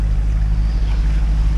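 A sailboat motors under engine power at sea after leaving a bay with no wind, its steady low engine drone and hum running continuously with faint wind and water noise and no voices.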